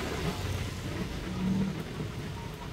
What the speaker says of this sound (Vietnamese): mưa lớn rồi nữa rồi, mưa lớn rồi cả nhà